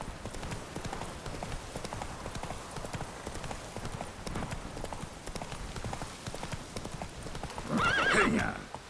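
A horse gallops in The Witcher 3: Wild Hunt, steady rapid hoofbeats drumming throughout at moderate volume, ending in a brief whinny near the end.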